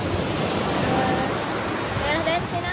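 Surf rolling in at Pantai Gading beach in Mataram, Lombok, a steady broadband wash of breaking waves that stays loud and close from start to finish, with faint tonal sounds drifting through the roar.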